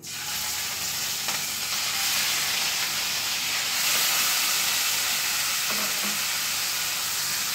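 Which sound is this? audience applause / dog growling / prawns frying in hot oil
prawns frying in hot oil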